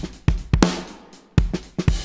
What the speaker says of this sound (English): push this mix control all the way up so we're hearing nothing but the compressed signal